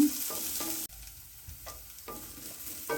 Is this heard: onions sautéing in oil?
yes